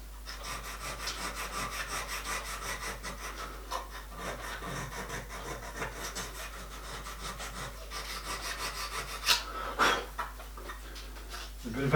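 A fine file scrapes back and forth across a steel horn plate for a miniature steam locomotive, a series of quiet, rhythmic rasping strokes with a few sharper scrapes toward the end.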